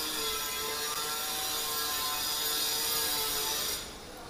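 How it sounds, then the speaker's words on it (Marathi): Construction work going on nearby produces a loud, continuous mechanical grinding whine that holds steady for several seconds before dropping off abruptly at the end. "आजूबाजूला जे काही वॉइस येते त्याकडे थोडं प्लीज इग्नोर करा, कन्स्ट्रक्शन चालू आहे त्यामुळे थोडासा आवाज येणारच"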